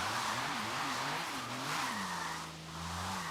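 A Volvo 1800E spins out under throttle on a wet surface, its engine revving hard and wavering while the tires hiss and squeal, loud and close against a constant wash of rain-like noise.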